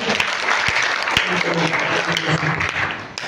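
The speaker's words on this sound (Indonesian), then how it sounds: "Tepuk tangan dulu sekali lagi" An audience at a formal gathering in Makassar breaks into applause, a continuous rattle of many hands clapping with a few louder individual claps and some voices mixed in underneath.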